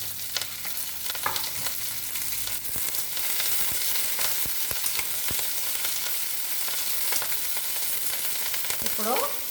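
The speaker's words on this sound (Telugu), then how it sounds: "ఇందులో పచ్చిమిర్చి కూడా వేస్తున్నానండి చక్కగా" Green chillies dropped into hot tempering oil for a mango dal, a close, steady sizzle with frequent sharp crackles and pops throughout, no voices.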